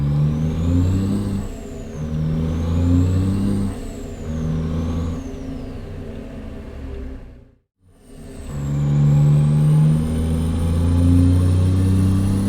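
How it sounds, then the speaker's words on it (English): A Cummins NTC Big Cam 400 truck engine in American Truck Simulator, loud and close, revving and climbing through gears with deep rumbling harmonics, a brief cutout during a shift, then pulling strongly again. "This engine sounds delicious going through the gears."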